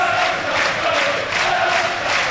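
Burnley supporters at a stadium during an EFL Championship match against Blackburn, a loud continuous crowd roar with swelling chants rising and falling in a steady rhythm.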